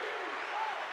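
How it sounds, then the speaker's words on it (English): A short burst of crowd applause plays as a sound effect, a brief, even wash of clapping at moderate volume. "You get a round of applause"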